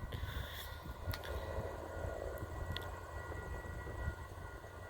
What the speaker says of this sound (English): we have got a via train pulling into Fallowfield station